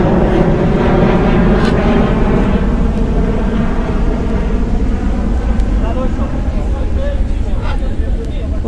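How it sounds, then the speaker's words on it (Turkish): A steady, loud airplane roar drones throughout, filling the background with a broad engine rumble. "Yine uçağın sesi karışıyor."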